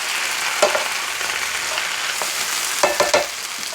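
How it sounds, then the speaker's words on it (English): Brussels sprouts and spinach sauté in a hot pan, giving a steady, close sizzle of frying with a few louder stirring scrapes and clatters breaking through it. "Saute it in."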